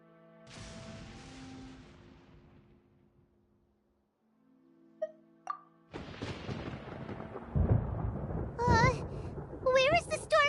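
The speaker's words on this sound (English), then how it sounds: "Paimon hears thunder!" Thunder in Genshin Impact rumbles low and heavy toward the end after a quiet stretch, layered under character voices and game music.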